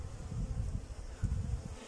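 Bees feeding on honey from fingertips give off a faint low buzzing hum, soft and close, with no talking.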